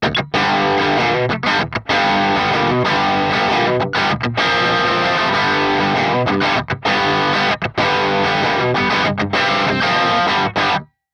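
Crunchy distorted electric guitar through a Mesa amp, played loud and dense, strummed chords with brief gaps between phrases, no voices.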